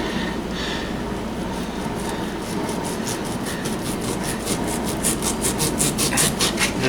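Steak knife trimming a chuck roast, with repeated scraping, rasping strokes that quicken into a rapid rhythmic series near the end, close and fairly loud.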